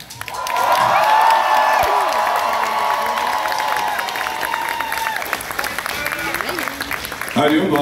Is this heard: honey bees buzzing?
no